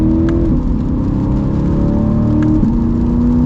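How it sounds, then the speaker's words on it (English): A modified 2020 Chevy C8 Corvette accelerates hard, its engine note rising loud and steady through two quick gear changes before cutting off abruptly. "get our little acceleration here."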